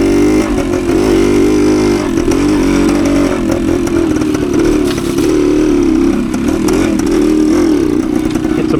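A 1972 Suzuki TS185 two-stroke motorcycle engine runs loud and close while being ridden off-road on a rough trail, droning steadily with rising and falling revs and some mechanical clatter, with no talk.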